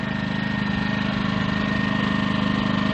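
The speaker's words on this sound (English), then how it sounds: "I'm going to turn this down to econo. And you immediately hear it rev down on RPMs." A Champion 2000-watt inverter generator idles in eco mode with a steady, low mechanical drone and faint rhythmic pulsing, close and continuous with no talk.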